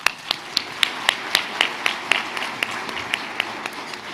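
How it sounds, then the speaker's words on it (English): Clapping at a youth awards dinner, led by one close, steady pair of hands beating in an even rhythm over a softer wash of background applause. "Please give yourself a round of applause."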